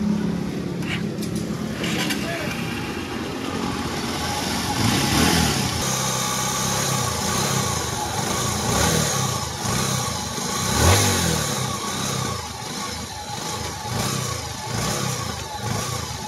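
A car engine runs continuously nearby, idling with occasional revs that rise and fall, steady and fairly loud throughout.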